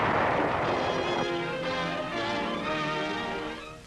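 Heavy WWII battle fire during the assault on Iwo Jima's Mount Suribachi, a loud, continuous roar of blasts and gunfire that rumbles densely before gradually fading.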